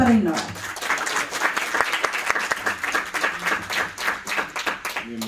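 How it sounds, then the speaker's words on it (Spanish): An audience applauds to welcome speaker Renato Cabrera at a talk on motivation to innovate, dense continuous clapping that starts under a voice and carries on throughout, with talk mixed in. "lo recibimos con un fuerte aplauso"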